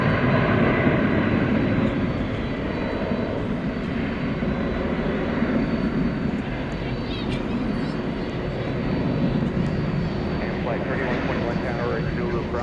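An Ameriflight aircraft runs its engine at DFW Airport at night, a steady broad roar heard at a distance, with radio chatter and talk over it.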